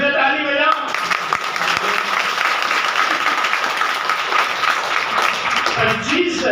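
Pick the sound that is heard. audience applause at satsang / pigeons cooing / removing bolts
audience applause at satsang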